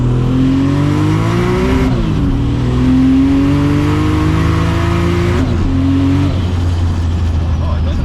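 A BMW E92 M3 engine reverses at low speed, giving a loud, steady engine drone with gentle rises and dips in pitch as the throttle shifts, heard close up throughout.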